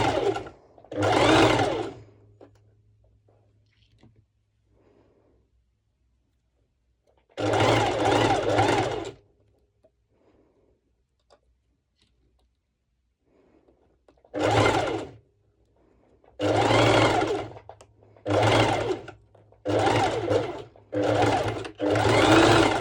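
A serger overlocks fabric pieces for a twisted-knot cut-out crop top, running in several bursts: a long opening run, a sustained middle stretch, then a string of short rapid stitching spurts separated by brief pauses, close and fairly loud.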